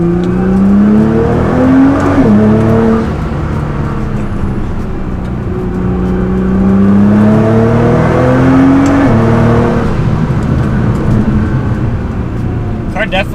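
A Nissan GT-R with a new power upgrade pulls hard through second gear, its engine droning loud and steady as the pitch climbs, heard from inside the car.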